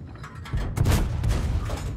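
A tank cannon fires in World of Tanks, a Panther/M10 blasting one heavy booming shot followed by a rumbling mechanical tail, loud and close with no talk.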